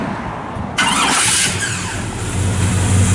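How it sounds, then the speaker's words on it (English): A 1955 Chevrolet Bel Air two-door post with a 700R overdrive transmission cranks briefly and fires right up, settling into a loud, steady idle close by. "Fires right up."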